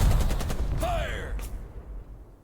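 Soldiers fire a rapid volley in the Burden of Command video game, a burst of dense shots at the start, then scattered reports and a short descending whine, fading toward the end.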